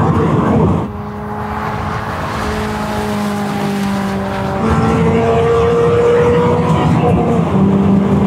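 A cheap Ferrari held at full throttle through the S-bends of a race track, its engine a loud, sustained drone whose pitch climbs steadily as it revs toward redline, with a brief dip before the tone resumes rising.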